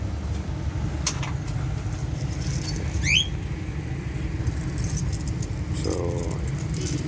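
Keys jangle briefly while the padlock key is fetched, a few light metallic chinks over steady outdoor background noise with distant traffic.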